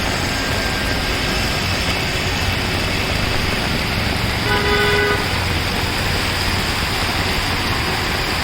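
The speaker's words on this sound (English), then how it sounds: "See the vehicles coming." Traffic moves through a flooded Mumbai street in heavy rain, a continuous wash of engines and water spray with one clear car horn toot midway, fairly close.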